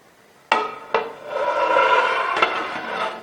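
Kabuli pulao being stirred in a cooking pot, with a few sharp metal-on-pot knocks followed by a steady scraping and clatter of rice and spoon, close and fairly loud, with no talking.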